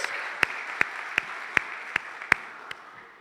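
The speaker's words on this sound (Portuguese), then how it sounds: "Vamos aplaudir Jesus nessa noite" A church congregation gives slow, evenly spaced hand claps, about seven in a row, sharp and distinct over a soft background hiss that fades at the end.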